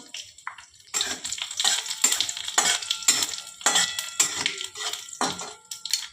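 Bay leaf, a dry red chili, cumin and nigella seeds crackling in hot mustard oil for a lentil dish, with a steady close sizzle broken by bursts of spitting and a few stirring scrapes, no voices.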